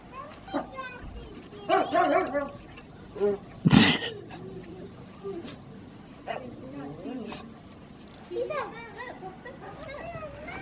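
A dog named Boston barks in short bursts at close range, several sharp woofs scattered among children's voices and chatter.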